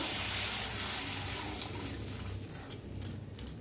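Water pours from a bucket in a steady gushing stream, loud at first and gradually thinning out toward the end.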